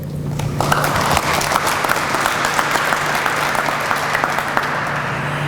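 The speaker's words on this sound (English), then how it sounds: "Thank you for the applause." An audience at a Nebraska ceremony honoring students with top ACT scores applauds a speaker being welcomed, a loud, sustained burst of clapping from a full room with a faint steady hum underneath.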